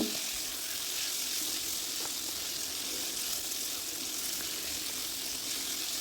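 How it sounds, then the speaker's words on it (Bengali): Chicken pieces and spices sautéing in a pan for chicken keema khichuri in a home kitchen, a soft, steady sizzle with faint stirring, quiet and close. "মশলা আর চিকেন আমি ভালো করে কষিয়ে নেব।"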